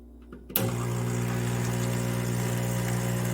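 A brushed stainless steel MiiCoffee Apex espresso machine starts pulling a shot: after a brief quiet moment its pump kicks in abruptly and holds a loud, steady vibrating hum, close and unbroken.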